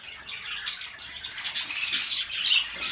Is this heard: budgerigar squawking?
yes